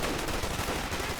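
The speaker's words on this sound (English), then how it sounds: "they've got the LMG, but this is just so much firepower" Dense, continuous automatic gunfire from a light machine gun in the Company of Heroes 2 strategy game, a loud, unbroken rattle of rapid shots with no pauses throughout.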